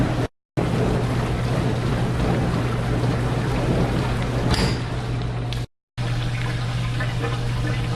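A dishwasher motor runs through its wash cycle, giving a steady low hum under a continuous wash of spraying water, broken by two brief silent cutouts.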